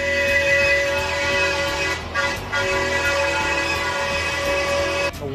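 A live steam miniature train runs in a park, giving a sustained whistle-like tone over a low mechanical rumble. There is a short dip midway and a brief break near the end.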